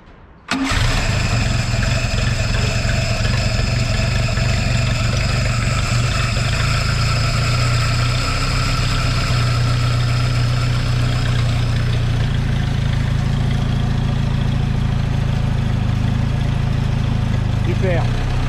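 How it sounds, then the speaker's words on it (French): A classic car engine coming back to life after restoration, using choke and a little fuel: it catches abruptly, then settles into a loud, steady, close idle with a voice talking over it. "Starter, un peu d'essence et normalement ça démarre."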